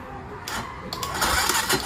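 A Kawasaki KLX 150 motorcycle engine cranks on its electric starter and catches, a short close whirring start that rises into a louder idling run with a few bursts of revving.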